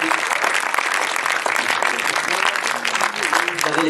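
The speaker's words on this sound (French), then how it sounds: "Tony Gatlieb, merci de l'applaudir chaleureusement." Festival crowd in a Marseille cinema applauds director Tony Gatlif, presenting his film Tom Medina at FID 2021, with steady, warm clapping that stays loud throughout while voices murmur and talk beneath it.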